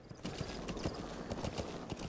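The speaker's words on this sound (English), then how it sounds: "It's just a horse." Horse hooves clip-clop at a steady trotting rhythm in Metal Gear Solid 5: The Phantom Pain, fairly faint and close, with no talk over them.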